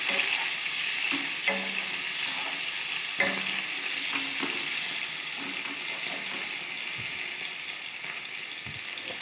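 Chopped onion dropped into hot oil for a chicken curry sizzles steadily throughout, with a few clinks and scrapes of stirring near the start and middle, then a softer continuous fry.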